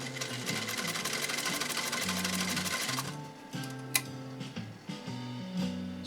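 A 1923 Singer 66-1 sewing machine stitches through material in a steady rapid run, its needle chatter loud and close, then slows into shorter stop-start bursts with small clicks between them.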